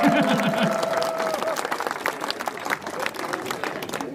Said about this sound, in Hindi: तो ताली बजाइए, एनर्जी मिलती है